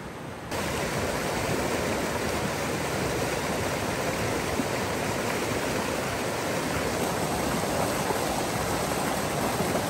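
Stream water rushes through Worlds End State Park in a loud, constant broadband roar that starts abruptly and holds steady without pause.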